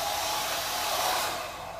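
A hair dryer blows with a steady, loud airy whoosh, then starts to fade near the end as it cuts out.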